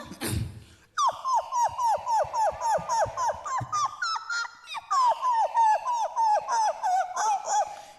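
A voice imitates a dog in a stage mimicry comedy act, giving a long run of rapid, evenly spaced whining yelps and barks, loud and close.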